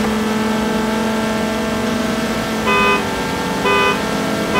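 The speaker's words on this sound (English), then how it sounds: "I know, this car sounds really good, dude." A car engine in the racing game Forza Horizon 3, at a street drag meet, holds a steady droning tone with two short revving surges, loud and close, with no talk over it.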